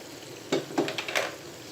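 Masala sizzles and fries in a pot for mutton nihari, with a soft steady crackle and a few brief stirring scrapes and clinks.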